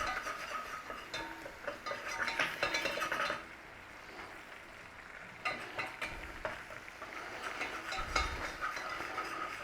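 A spoon stirs flour into melted butter in a pan while the roux cooks. Soft scraping and clinking of the utensil against the pan sits over a faint sizzle, quiet and close, with no talking.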